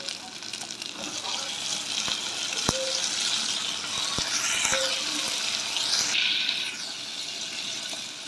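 Onions and green chillies frying with tomato added in a pan for mutton bone soup, giving a steady close sizzle with occasional utensil clicks and a brief ringing tap.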